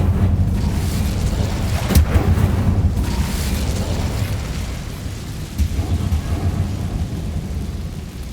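Incendio fire spell cast in Hogwarts Legacy, a deep booming whoosh and crackle with a sharp burst near the middle over continuous low rumbling game ambience.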